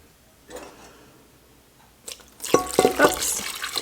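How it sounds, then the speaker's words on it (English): Cold water is poured into a bowl of dry peach pie filling ingredients, a short faint clink followed by a louder splashing, gurgling pour up close that lasts about a second and a half, with no voices. "To our dry ingredients, we're going to add 2 cups cold water."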